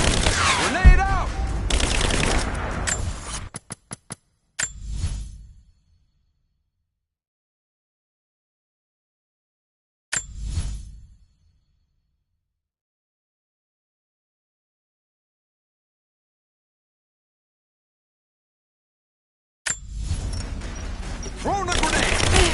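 Combat in the video game Tomb Raider, with dense bursts of gunfire and blasts at the opening, then two isolated sharp booms separated by long silence, and the shooting resuming at the end. Shouted voices mix in with the fighting.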